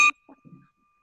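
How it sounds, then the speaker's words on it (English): A bell is struck once, a short bright ding whose clear tone rings on faintly, followed by a couple of soft low sounds. "I'm going to join in on that bell ringer."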